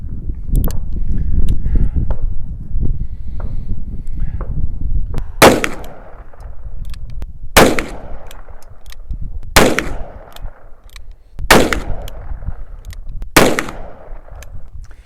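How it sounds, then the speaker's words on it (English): Five loud, sharp shots from a Smith & Wesson .357 Magnum revolver at an outdoor range, evenly spaced about two seconds apart, each with a booming echo tail over low wind noise. "right, that's 5 shots at the target"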